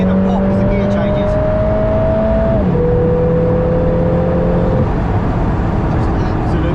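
Lotus Emira accelerating on an open road, a loud, steady engine note climbing in pitch, then dropping sharply at a gear change before rising again, heard from inside the car.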